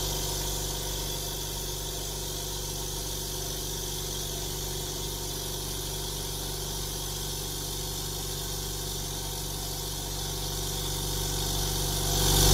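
An Izumi OL 10-24 oil-less silent air compressor running steadily, a continuous close motor hum and vibration that holds level throughout and swells slightly at the end.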